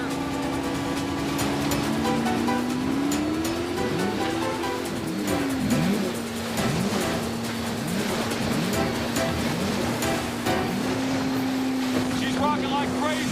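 Offshore racing powerboat pushed to full throttle, its engine a loud, unbroken roar with a droning pitch that dips and recovers as the hull slams across the swells, with wind buffeting close to the microphone throughout.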